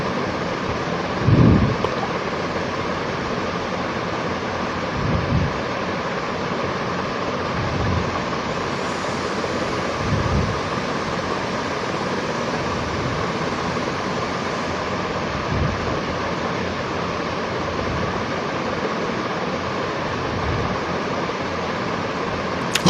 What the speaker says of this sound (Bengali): অল্প জল দিয়ে দেবো, জল দিয়ে সুন্দর করে কষিয়ে নিচ্ছি।